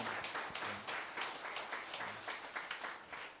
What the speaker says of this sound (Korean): 우리 박수로 축복하시겠습니다